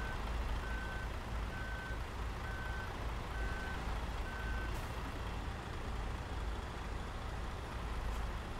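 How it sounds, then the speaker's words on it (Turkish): An Irizar i8 coach reversing into a parking spot in Euro Truck Simulator 2 sounds five evenly spaced warning beeps over a loud, steady engine rumble, with no talking. "bir otobüsümüzü şuraya bir park edelim"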